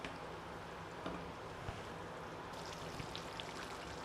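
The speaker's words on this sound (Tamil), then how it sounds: "இப்போ பாருங்கள் நல்லா கொதிச்சுட்ருக்கு பார்த்தீங்களா" Vazhaithandu pulikulambu, a tamarind gravy with banana stem, bubbling in a pot on the stove: a soft, continuous simmer with faint pops and occasional small splashes, heard close and quiet.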